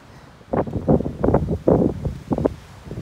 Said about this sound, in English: This wind's not cool.